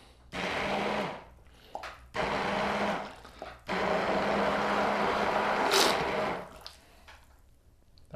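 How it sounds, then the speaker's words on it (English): A blender grinds cooked potatoes for cream of potato soup in three loud bursts, each a few seconds long with short pauses between, the motor note shifting as the mash thickens, with no talking. "I'm just going to grind some up to make this soup a little thicker"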